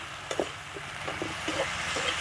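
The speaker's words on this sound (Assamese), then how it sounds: "মই এতিয়া ঢাকনখন দাঙি অকণমান লৰাই দিম।" A pot lid is lifted with a light clink, then a spoon stirs fish curry with ash gourd and jackfruit seeds through a soft, quiet sizzle with scraping strokes.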